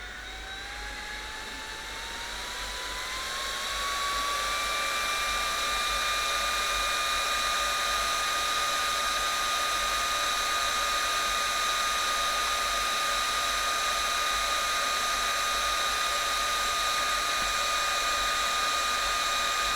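A portable fan at maximum speed: a loud, steady motorized whir rises in pitch as it spins up, then holds a constant high whine and airy rush throughout.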